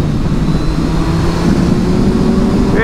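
A 2021-2022 Suzuki Hayabusa engine runs steadily, giving a loud, constant low drone with a sustained tone and no clear revving, and nobody speaks.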